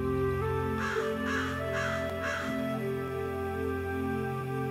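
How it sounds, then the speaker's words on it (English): Crows caw four times in quick succession, harsh calls standing out clearly over a steady low background drone. "listen to the birds"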